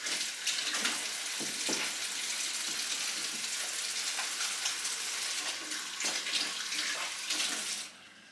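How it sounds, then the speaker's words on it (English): Hands being washed under a running kitchen tap, a steady close hiss of flowing water with splashy variations that cuts off abruptly near the end. "I'll give my hands a wash."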